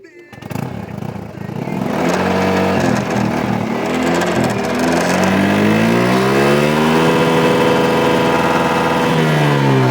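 A Honda PCX 150 scooter engine starts and revs steadily on its center stand, its pitch climbing and holding high with a sustained buzzing drone, close and loud throughout.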